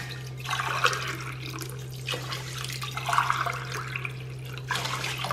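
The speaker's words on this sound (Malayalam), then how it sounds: "ഞാനൊരു 10 കപ്പ് വെള്ളമാണ് ചേർത്ത് കൊടുക്കുന്നത്" Water poured into a vessel of rice for soaking, ten cups of water to two of rice, with several separate splashing pours over a steady low hum, close and moderately loud.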